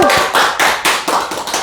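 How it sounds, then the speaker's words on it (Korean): A crowd applauding at the start of a community village talk held in a small venue, sharp hand claps coming in loud uneven bursts and rippling close by for under two seconds. "뜨거운 박수 부탁드립니다."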